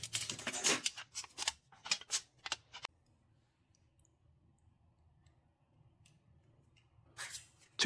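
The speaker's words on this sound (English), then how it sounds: "I first trim away the razor-sharp edges with a utility knife, taking extra care as I go." A utility knife trims a flattened aluminum soda can sheet: crisp, close scratchy cuts in a quick series of strokes, then quiet, followed by another short cutting burst at the end.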